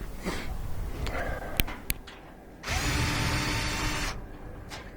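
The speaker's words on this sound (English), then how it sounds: "Off this one hose here, but first take off this bolt" Bolt being loosened on a Whirlpool laundry center washer during an off-balance repair, heard as a ratcheting tool with sharp clicks and then a steady whirring stretch, close by with no talking.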